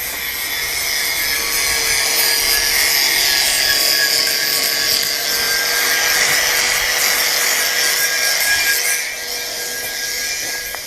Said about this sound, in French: Plus qu'à finir de meuler.